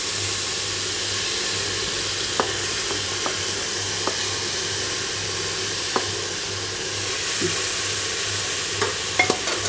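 Finely chopped tomatoes sautéing in a pan for spicy tomato rice: a soft, steady sizzle with a low hum and occasional light clicks of stirring, close and without talk.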